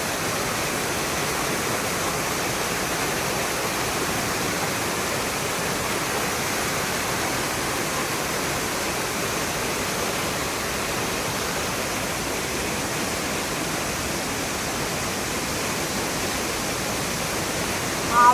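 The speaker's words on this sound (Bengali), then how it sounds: "আওয়াজ দেখেছেন, কি আওয়াজ ঝর্ণার।" A waterfall in Pelling roars in a steady, dense rush of broadband water noise that holds at an even, loud level from start to finish, with no voices heard.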